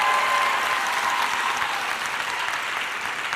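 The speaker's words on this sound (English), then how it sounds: "Let's give them another round of applause, shall we?" A contest audience claps for the finalists at a talent event, a dense, even wash of applause that holds steady for a few seconds with no talk over it.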